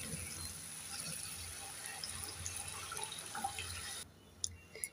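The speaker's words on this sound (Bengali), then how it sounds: "এবার দিয়ে দেব জল।" Water poured into sizzling fried masala in a pan for a prawn curry, a steady hiss and splash that runs for about four seconds before cutting off, followed by a few faint clinks.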